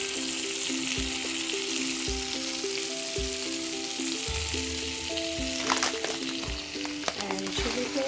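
Garlic and herbs sizzle in brown butter over low heat, a continuous moderate frying hiss close by. Soft stirring clicks and scrapes recur through the sizzle.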